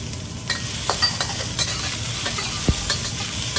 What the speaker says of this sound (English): We're going to keep stirring the vegetables on high heat and cook it for about 2 minutes